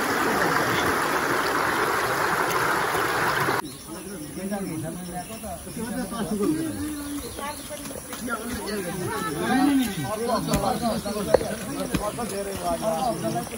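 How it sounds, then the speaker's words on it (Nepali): A rain-swollen stream rushes during the monsoon month of Asar, a steady broadband wash for the first few seconds before a voice talks over quieter background noise. "खोलामा यसरी पानी बग्न थालेको छ।"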